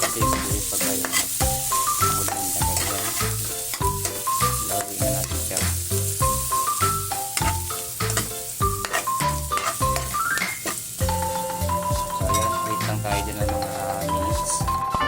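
Ginger fries in a pan for chicken adobo, a steady sizzle with scraping stirs underneath prominent background music.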